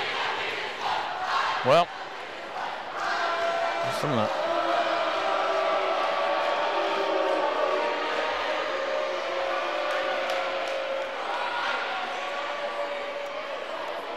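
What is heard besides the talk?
high school basketball crowds chirping at one another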